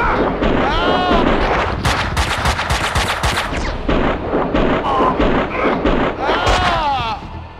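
Gunfire in the video game Max Payne 2 crackles in dense, loud bursts of rapid shots, with shouts and cries breaking through the barrage.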